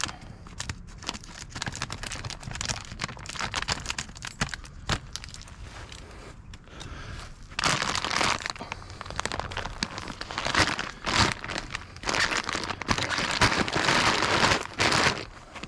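A mushroom grow bag is cut open at the top and handled, producing loud, close plastic crinkling and tearing in irregular bursts that grow busier and denser in the second half.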